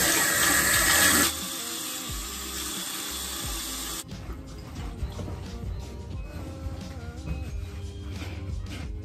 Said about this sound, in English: now I'm gonna wash my face off. Sometimes I use cold water. Sometimes I use warm water.